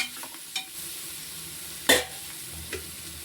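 Mint is stirred into mutton biryani frying in a pan, with a continuous close sizzle broken by a few sharp scraping clicks from the stirring utensil, one louder clack midway, and no talk.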